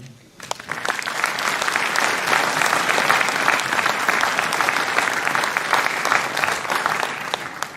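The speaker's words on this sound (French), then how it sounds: "Je pense qu'on peut les applaudir." Sustained applause from an indoor crowd at a New Year's greetings event, a dense, even clatter of clapping that rises quickly and holds steady.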